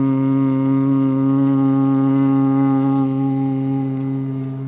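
A steady, low, resonant hum held by a human voice imitates a bumblebee's buzz in bhramari breathing, close and unbroken for several seconds, fading slightly at the end.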